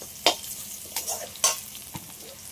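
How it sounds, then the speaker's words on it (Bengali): A spatula stirs hilsa curry with raw banana in a hot pan after a nigella-seed tempering, giving a few scraping strokes over a soft, continuous sizzle. "এবার আমি একটু কালো জিরে ফোড়নে দিয়ে দিচ্ছি, সবগুলো একসাথে আরেকটু নেড়ে নিচ্ছি"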